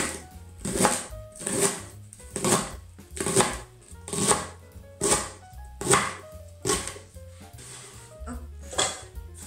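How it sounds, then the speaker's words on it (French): Leeks being cut into pieces with a knife on a board: about a dozen sharp, regular chops at a steady pace, each a crisp near thud, with nobody speaking. "Donc je vous les détailler en morceaux, comme ceci."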